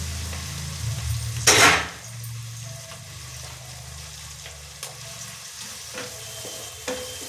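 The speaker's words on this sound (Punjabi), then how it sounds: "ਸਿੰਪਲ ਜਿਹਾ ਆਪਾਂ ਤੜਕਾ ਲਵਾਂ" Spices for a tadka sizzle in hot oil in a pan while cooking a potato and carrot sabzi. A loud burst of frying hiss breaks out, then settles into a steady crackle broken by a few light clinks of stirring.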